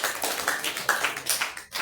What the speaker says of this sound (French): Acclamons pour les Seigneur.